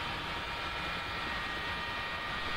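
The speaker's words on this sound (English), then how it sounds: "Can hear the chopper a bit better." Helicopter in the DCS flight simulator, heard as a steady, broad turbine-and-rotor roar that holds at an even level throughout, with no voices.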